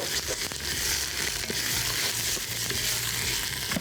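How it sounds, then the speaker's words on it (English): Ground beef curry stirred in a hot pan, a continuous close sizzle and frying crackle with scraping and crinkling stir noises throughout, no talking. "Let's go ahead and give this one more stir."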